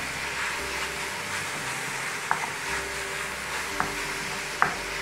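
Onion sautés in a pan for stuffed duck, making a steady, moderate sizzle with a few sharp utensil clicks against the pan.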